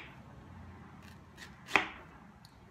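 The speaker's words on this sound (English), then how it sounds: "So I line it up and I give it a slice" A knife slices through a pineapple core in a single crisp, brief cut, audible as a short crunchy snap against faint, quiet background noise.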